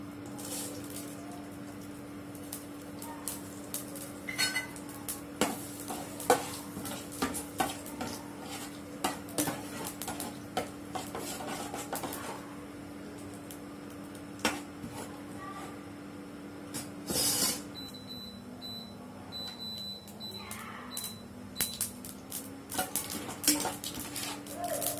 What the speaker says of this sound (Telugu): బాండిలు వేడి చేసుకొని కొద్దిగా మినపప్పు ఆవాలు జీలకర్ర మెంతులు